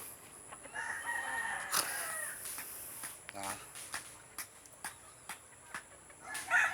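A rooster crows once, a little distant, amid outdoor clatter and scattered clicks, with a voice speaking briefly.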